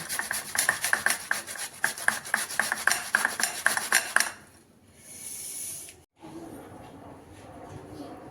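Bare hands mix and knead dough for puri in a home kitchen, making steady rhythmic rubbing and squelching strokes up close for several seconds, then quieter shuffling handling noises.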